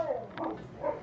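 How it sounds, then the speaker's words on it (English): A neighbor's dog barks faintly in the background, a couple of muffled woofs across about a second. "Well, that's a dog in the background."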